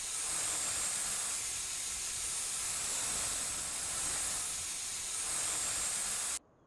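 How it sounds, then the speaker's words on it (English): A steady, loud hiss of an air compressor jet used to clean farm equipment in Farming Simulator 25 runs without a break for several seconds, then cuts off abruptly. "Get our air compressor thing out."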